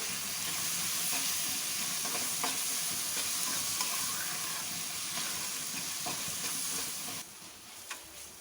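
Tomatoes with turmeric and Kashmiri red chilli powder cook in a pan for chana dal, giving a steady close sizzle and hiss with occasional stirring clicks that quiets near the end, without talk.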